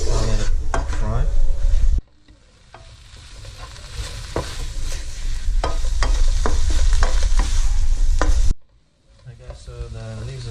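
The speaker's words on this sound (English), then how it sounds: "Gotta keep stirring it, you can't let it fry." Leaves for a Malaysian village dish cook down in a pan, with loud scraping and clattering strokes of stirring over a low sizzle; two abrupt breaks interrupt the rhythmic stirring.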